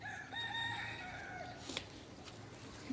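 A rooster gives a single crow nearby at moderate volume, the call trailing off into quiet background noise.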